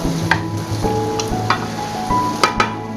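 Ground meat sizzling in a pan on the stove, a close, steady frying crackle broken by a few sharp clinks and scrapes as it is stirred.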